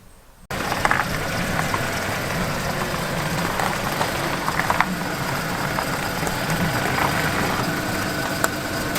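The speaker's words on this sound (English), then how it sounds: "Here is the mighty power plant of my 2010 Volkswagen Fox" The 1.2 litre three-cylinder engine of a 2010 Volkswagen Fox idles steadily after a sudden start, a close, even mechanical hum with faint clicks and ticks over it.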